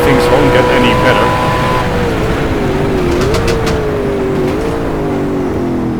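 Ultima GTR race car engine revving hard at speed in a sim, a loud sustained drone whose pitch climbs and dips with shifts, with someone talking over it.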